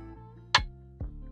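A rim shot drum sample played in FL Studio in a shatta-style beat, heard as two sharp, dry clicks, the first loud and bright, the second softer, over a faint sustained tonal backing.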